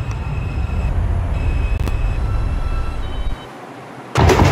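New York subway 5 train bound for Eastchester on late-night Dyre Avenue service, a steady loud rumble of the running car with faint high tones, dropping briefly before a sharp burst of noise near the end.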